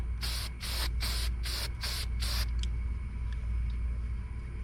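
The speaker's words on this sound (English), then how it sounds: "you're just gonna spray it down really well." Aerosol oil sprays onto a 2020 Polaris Sportsman air filter in six short, rhythmic bursts of equal length, close and loud, over a steady low rumble, followed by quiet with a couple of faint clicks.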